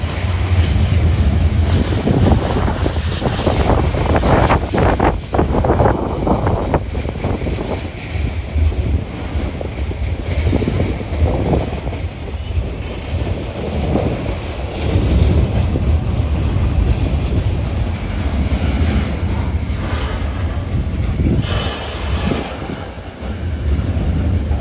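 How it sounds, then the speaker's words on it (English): A long freight train loaded with lumber from Quebec rolls past at close range, a continuous heavy rumble with rhythmic clacks from passing axles and gusts of wind buffeting the microphone. "Lot of lumber from Quebec on this train."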